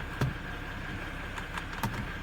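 A 2018 Jeep Grand Cherokee with a crankshaft position sensor performance fault idles steadily, a low even engine hum with a few faint clicks on top, heard close up with no talking.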